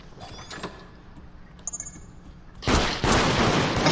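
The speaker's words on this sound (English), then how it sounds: "Oh, he's shooting me!" Enemy gunfire in a video game, a loud close burst of rapid shots in the final second after quieter clanks and metallic tones, with no talk over it.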